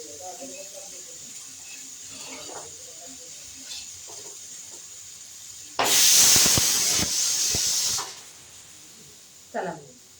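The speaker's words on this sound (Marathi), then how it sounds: "मग शिट्टी पण झाली कुकरची, भात पण झाला" A pressure cooker cooking rice lets out one loud, sharp hissing whistle lasting about two seconds, with soft kitchen clatter and a voice heard before and after.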